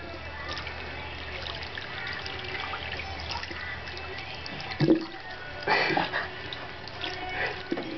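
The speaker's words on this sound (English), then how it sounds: "He wants to know where the water goes." Water trickling in a sink while a cat plays in it, a steady gentle dribble close by, with a few splashes and thumps near the end and a person speaking briefly.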